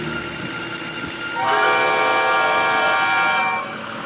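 Train engines whistling in a railway yard, a sustained horn blast rising after a quieter start, loud and held for about two seconds before fading back to background rumble.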